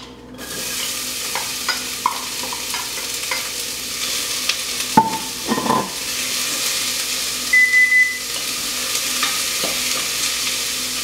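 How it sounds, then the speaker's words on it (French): Onions sauté in hot oil in a soup pot for red lentil soup, a steady broad hiss of frying with a few louder stirring scrapes and clunks midway, close and without speech. "Donc, je vais faire revenir les oignons."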